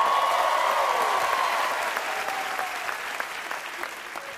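A comedy show audience applauds and cheers loudly as a comedian is introduced, a dense steady roar of clapping and whoops that gradually eases off over several seconds.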